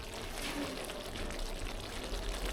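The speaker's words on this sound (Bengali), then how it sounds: "এবার আমি এতে ঝোলের পানি দিয়ে দেবো।" Hot water pours steadily into a simmering lotpoti curry with lentils in a pot, a continuous close gushing and splashing wash lasting the whole moment with no talk.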